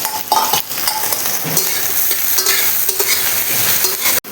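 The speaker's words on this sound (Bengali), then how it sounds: "এখানে এর মধ্যে আমি কুচনো পেঁয়াজ দিয়ে দিচ্ছি।" Chopped onion goes into hot oil with cardamom, cloves and cinnamon pieces, giving a loud, steady close sizzle and frying hiss with occasional scrapes of a spoon in the pan, no voices.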